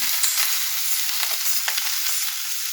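Broccoli frying in a pan for a spicy Gujarati-style sabzi, giving a steady, close broadband sizzle with a few soft stirring clicks and scrapes and no talking.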